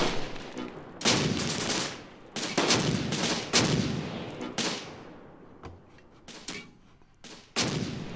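Mortar fire in the WWII strategy game Close Combat: Gateway to Caen, a series of sharp, loud blasts at irregular intervals, each leaving a short decaying rumble, with quieter stretches between them.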